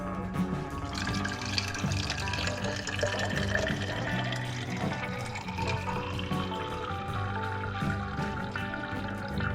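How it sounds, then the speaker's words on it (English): Water runs steadily into a kitchen sink drain trap during a cabinet remodel, a continuous close splashing and gurgling flow with no talking. "make sure to fill up the catch with water"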